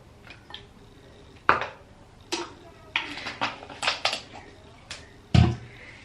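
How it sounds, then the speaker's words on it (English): Hair dye is stirred to a creamy paste in a bowl, with a string of irregular clinks and knocks of a tool against the container, some sharp and close, separated by brief pauses. "Then mix it up until it comes into like a cream-based consistency."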